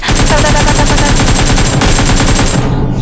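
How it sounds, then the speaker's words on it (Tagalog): Sustained automatic gunfire from a PUBG custom-match firefight, rapid loud bursts and overlapping shots filling the whole stretch before cutting off near the end. "Nagkakapalitan ng putok ang Team 2."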